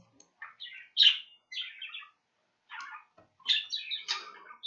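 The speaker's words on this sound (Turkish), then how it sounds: "Kuş." Short bursts of bright bird chirps and tweets in three clusters, separated by brief silences, close and fairly loud.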